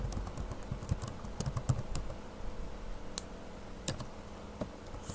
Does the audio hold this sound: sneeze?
no